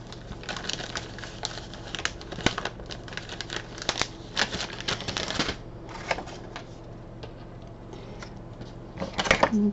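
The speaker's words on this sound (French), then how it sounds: "je vais découper un rectangle" Paper card being cut into a rectangle for an autumn card, a dense run of close crisp snips and rustling scrapes continuing throughout, louder bursts near the end.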